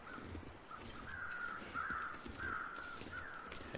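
Crows cawing in The Long Dark video game, a string of several harsh caws in a loose rhythm, faint and distant over quiet wind-like background.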